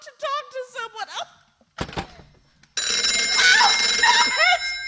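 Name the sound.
telephone ringing in radio drama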